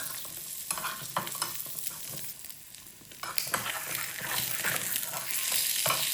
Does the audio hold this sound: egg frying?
yes